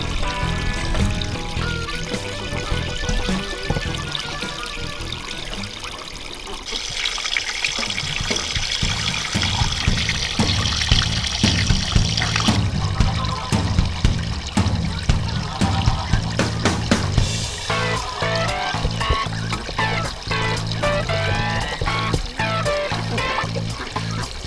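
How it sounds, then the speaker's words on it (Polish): Water poured into a basin for emu chicks outdoors, a long continuous splashing pour that runs steadily and loudly for the whole stretch, with no voices. "Tutaj w miejscu, w którym nalewam wody, ta woda jest taka fajna, taka przeźroczysta w miarę"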